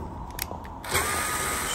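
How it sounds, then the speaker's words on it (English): A quarter-inch power driver takes panel screws off a washer's control panel cover, with a couple of brief clicks before a close, steady whirring spin starts and holds to the end. "we're going to take those 3 screws off. So I'm using a 1/4 inch driver"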